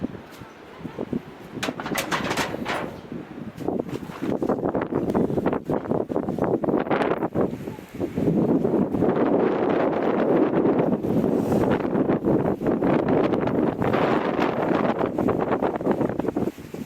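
Wind gusts during a heavy rainstorm in Hetauda, Nepal, as a steady, loud rushing roar that swells and buffets the microphone, with faint bird calls in the background.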